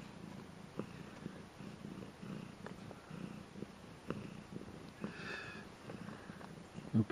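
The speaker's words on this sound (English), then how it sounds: "Purring away happily there" Sleepy kittens purr in a soft, continuous low rumble that runs steadily throughout, close by and quiet, with a few faint sniffs and rustles mixed in.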